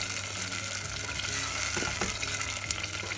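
Tinned sardines sizzle in a pan for a sardine curry, a constant close hiss of frying with faint crackles and no talk.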